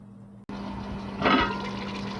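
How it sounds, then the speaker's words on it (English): Boiling water is poured into a pot of cooking curry goat: a short, louder burst of splashing pouring over a steady low kitchen hum, with no talking. "I just pour some boiling water in here, so you don't stop the cooking process."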